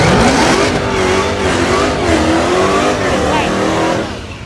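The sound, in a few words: street racing car revving and accelerating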